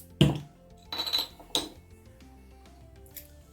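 A Duvel beer bottle is opened and handled with a glass, giving several sharp clinks and knocks of glass at close range, followed by quieter handling noise.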